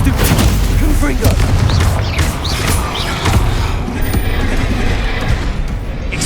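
Confringo explosive spell blasts in Hogwarts Legacy, a loud continuous barrage of booming impacts and crackling bursts during frantic spell combat, with a voice calling out over the din.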